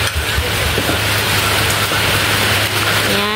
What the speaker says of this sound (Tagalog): mas lumakas po yung ulan mga idol